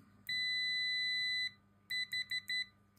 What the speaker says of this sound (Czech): Teď si poslechneme, jak bude pípat pípák tady na tom klešťovém měřidle.